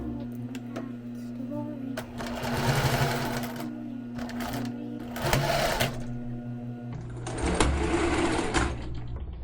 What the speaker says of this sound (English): the sewing machine was getting pretty angry with me